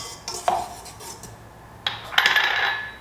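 Metal whisk scraping and clinking against a bowl while mixing flour and salt, with a sharp tap near the start and a busier burst of rattling strokes later, close and clear.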